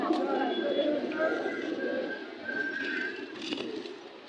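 Pigeons coo in low, throaty bursts at a busy pigeon market in Bangladesh, with people talking close by and bargaining chatter over the birds.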